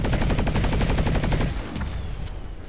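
Rapid automatic gunfire in the game Planetside 2, a dense continuous burst of shots that stops partway through, leaving softer scattered game sounds.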